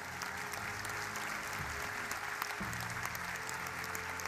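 Audience applause for the regional winners of a French-language dictation competition final, a steady, dense wash of clapping filling the room throughout, with a low background hum.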